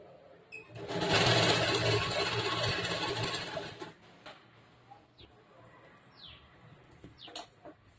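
A sewing machine stitching a blouse runs in one loud, steady burst of about three seconds, then stops, leaving faint taps, fabric handling and distant bird chirps.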